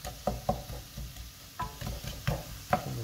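Sliced leeks cooking gently in a pan, a soft quiet sizzle with a few light scraping and stirring knocks at an irregular rhythm, close by and without talk.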